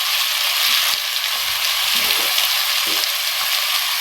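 Steady, loud sizzling of four large chopped onions frying in hot oil for chicken gravy, a continuous crackling hiss with a few soft stirring scrapes and no voices.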